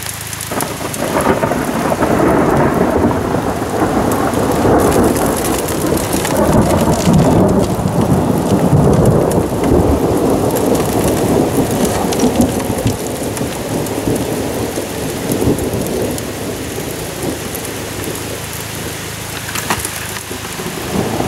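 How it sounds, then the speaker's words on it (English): A thunderstorm directly overhead at a gold prospecting site: steady loud rain on surfaces with deep rolling thunder rumbling throughout, continuous and close, no voices. "the storm is really picking up, and it's right over top of me now"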